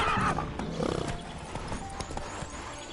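A horse in The Witcher 3 whinnies and then gallops, with steady clip-clop hoofbeats under a loud, dense game soundscape on PS4 Pro.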